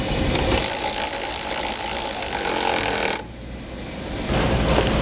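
A ratchet spins rapidly, tightening 3/8 lock nuts on a KAGE grass deflector fitted to a Scag Turf Tiger zero-turn mower, loud and close, with a short pause before the clicking resumes.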